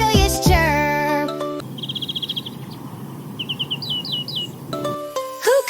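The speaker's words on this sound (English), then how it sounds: "A chirp so sweet it'll make you stand tall. Sound of a melodious chirp." A songbird gives quick, high, bright chirps in short trilled bursts over a soft background, set between passages of melodic music at the start and end.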